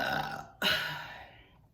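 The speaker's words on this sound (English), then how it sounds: "let me get to burping." A loud, close, drawn-out burp after drinking kombucha, two deep belching swells separated by a short break, the second fading away slowly, no talk.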